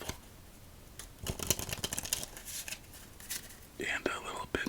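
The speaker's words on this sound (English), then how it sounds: "Let's give it one more shuffle." A deck of playing cards is riffled and shuffled up close during a solitaire game, giving soft, rapid bursts of flicking and crisp rustles alone.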